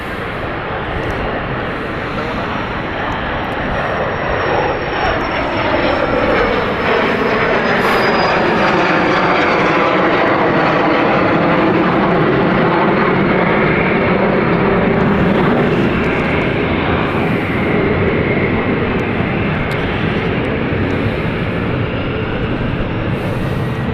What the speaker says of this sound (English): Here is that Mustang taking off.